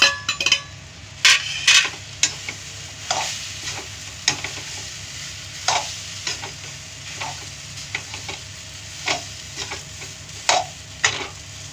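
Leftover rice with fresh coriander is stirred and fried in a pan, a soft sizzle underneath repeated scraping clinks of a spoon against the metal, coming in an irregular rhythm close by, with no talking.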